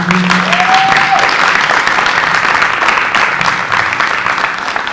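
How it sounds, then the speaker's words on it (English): A crowd at a school board meeting applauds steadily for student scientists, with dense clapping throughout and a few brief voices or cheers mixed in. "Give them a round of applause."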